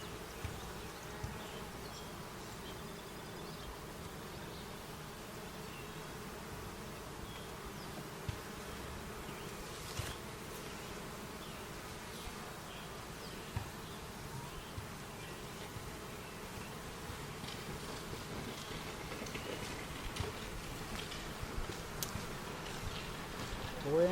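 Swarm of bees working in and out of a hive, a steady dense buzzing drone that holds evenly throughout, close and continuous, with faint occasional voices in the background.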